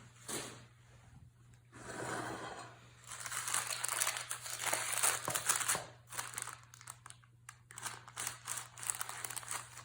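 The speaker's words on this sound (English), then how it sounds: "gently tug out these little wax paper strips or foil or whatever you put under there" Thin wax paper strips tugged out from beneath a frosted cake on a plate, a run of soft crinkling and sliding paper rustles with brief pauses, close by and fairly quiet, no voices.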